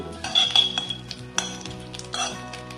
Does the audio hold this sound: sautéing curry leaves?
yes